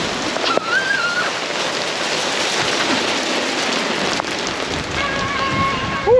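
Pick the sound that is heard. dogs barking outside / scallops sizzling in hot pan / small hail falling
small hail falling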